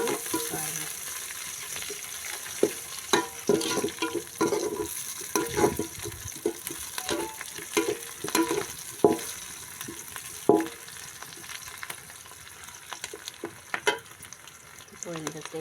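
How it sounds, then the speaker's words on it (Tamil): Chopped green chillies sautéing in a pan give a light, crackling sizzle with irregular clinks and scrapes of a spoon stirring, fairly quiet and close, no talk. "பச்சை மிளகா கட் பண்ணி வச்சுருக்கோம் இல்லையா, அதை சேர்க்க போகிறோம். ஒரு நிமிஷம் வதக்கிட்டால் போதும்"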